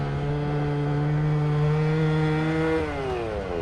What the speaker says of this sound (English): You can hear it revving.